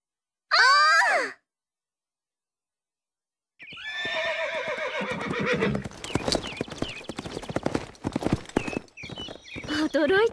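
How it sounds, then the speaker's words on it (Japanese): Horse hooves clip-clop in a quick, loud rhythm during horseback riding, following a short high whinny and a brief silence, with other vocal sounds mixed in near the end. "驚いたわ、エトワール様があんなに乗馬が得意だなんて"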